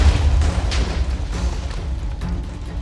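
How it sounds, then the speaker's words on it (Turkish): In Minecraft, a planet blows up after a TNT fuse is lit, releasing loud, deep rolling booms and rumbling blasts that carry on without pause. "Ve gezegen patlıyor."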